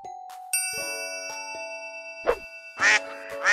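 A toy-like duck quack sounds twice amid bright chiming electronic tones and dings in a children's animal quiz, clear and close with no talking.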